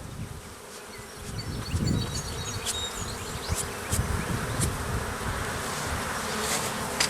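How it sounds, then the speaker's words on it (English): A dense, steady hum of many honeybees buzzing close by as they are shaken off a frame back into the hive, continuous throughout with faint scrapes and knocks. "shake these bees off here"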